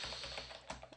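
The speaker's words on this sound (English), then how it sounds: "Let's go ahead and type in" Quiet, rapid clicking of computer keyboard keys as a web address is typed, a steady run of light taps over a low background hum.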